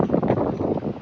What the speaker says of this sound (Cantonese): 大家可以聽到呢個碼頭究竟有幾咁大風啊！